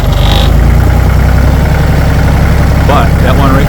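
A tractor engine idles slowly with a steady low rumble and a loose rattle, near and loud throughout, with a voice briefly audible over it.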